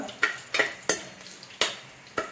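Spices crackle in hot oil for tempering a Mangalore tomato rasam, with five or six sharp, close pops at uneven intervals over a low sizzle.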